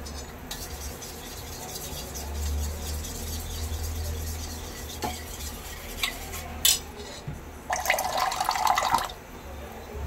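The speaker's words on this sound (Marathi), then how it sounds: "पाणी टाकून त्याचा आवाज आला असेल व्हिडिओमध्ये" Water is poured into a kitchen pot in a short, bright splashing burst near the end, preceded by light clinks of utensils and soft stirring against a low background hum.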